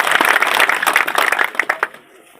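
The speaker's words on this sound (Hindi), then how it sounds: "एक जोरदार ताली बजाइए।" Audience applause for a village sarpanch at a road foundation-stone ceremony: a dense burst of many hands clapping together, loud and sustained, then thinning into a few scattered claps before dying away.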